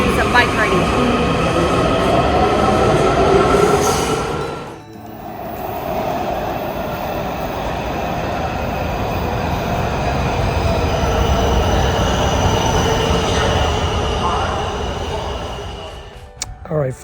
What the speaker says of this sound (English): Yes, we took a train.